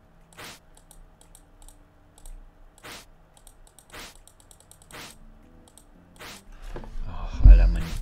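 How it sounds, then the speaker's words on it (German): A computer mouse clicks sharply, about six isolated clicks spaced roughly a second apart in a quiet room while The Escapists is played, followed by a swell of low rustling noise at the end. "man hört bestimmt wieder meine Maus so in dem Video klicken"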